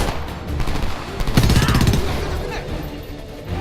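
Machine gun fire in the Homefront video game, a burst of rapid automatic shots clattering for about half a second amid ongoing battle noise and muffled voices.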